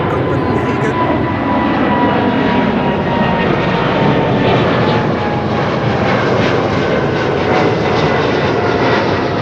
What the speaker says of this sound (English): Here's the Emirates to Copenhagen.